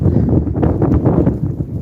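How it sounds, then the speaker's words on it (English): Steady wind buffets the microphone, a continuous low roar with gusty swells and no voices. "it's too windy"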